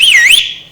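A loud, brief piercing whistle to hail a taxi, a single bright tone bending down and back up before cutting off.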